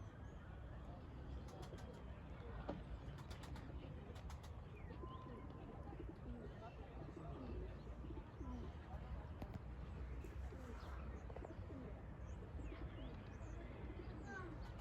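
Kaçak Arap pigeons out in the open, with soft coos and chirps scattered over faint outdoor background noise, fairly distant, while someone talks at times.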